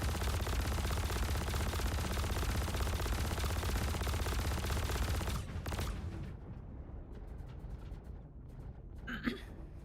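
Rapid sustained machine-gun fire aimed at aircraft in a combat flight video game, dense and loud for several seconds before cutting off into quieter cockpit noise with a few scattered bursts.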